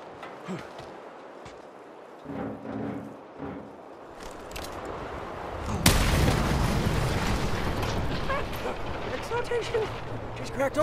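An explosive blast rips through a wall in Mad Max, a sudden loud boom followed by a sustained roaring rumble of debris, after quieter rustling and short mechanical sounds, with voices around.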